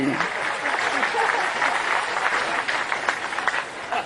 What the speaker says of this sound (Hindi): तो ताली उली बजाओ ना जी